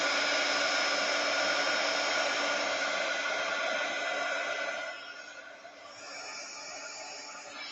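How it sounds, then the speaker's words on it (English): Heat gun blowing steadily as it dries material, a close, continuous airy roar that eases slightly in level toward the end, with no talking. "It's just cool to watch the heat gun dry that stuff up."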